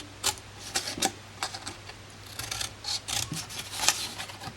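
Scissors snipping flaps on a cardstock gift box, a series of short crisp cuts in uneven bursts, close and moderately loud over a faint low hum.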